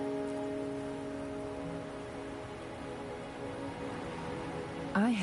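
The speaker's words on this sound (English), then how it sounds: "are you trapped here by the rain?" Steady rainfall from the video game Wuthering Waves hisses softly and evenly in the background, with a faint sustained tonal hum beneath it.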